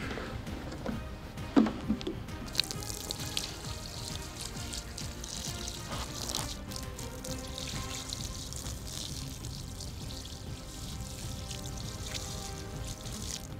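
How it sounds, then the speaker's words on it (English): Water splashes and trickles in an uneven stream as it is poured over a towel outdoors in the Outback, with scattered drips and sloshes, fairly close. "The next step is to drench the towel in water."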